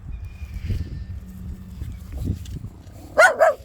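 A female Jack Russell dog gives two sharp barks near the end, after quiet low rustling and faint background noise.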